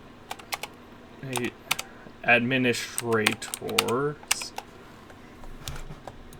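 Typing on a computer keyboard, scattered crisp key clicks in short bursts, close up, with someone talking over part of it.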